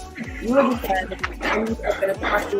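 Dog barking in the background behind a workout coach's motivational talk, with repeated short barks at a steady rhythm, faint and partly masked by the voice.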